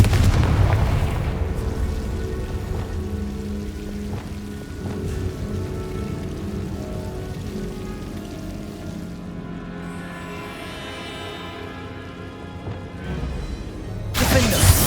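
Deep, rumbling blast from the Confringo fire spell in Hogwarts Legacy, a heavy low boom that rolls on for several seconds before settling into a crackling tail, with a sharp new burst right at the end.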